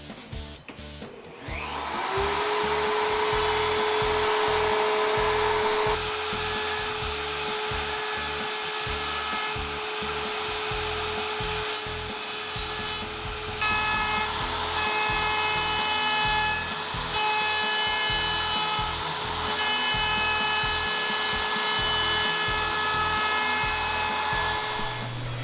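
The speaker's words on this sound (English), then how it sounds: "I'm just going to use the router and put a 3/16 inch round over around all of the top surfaces." A handheld wood router cutting a 3/16 inch round-over along the top edges of coasters and a cheese tray made from a tree branch, a loud steady high-pitched whine running almost continuously with slight shifts in load.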